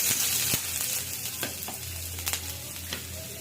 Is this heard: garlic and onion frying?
yes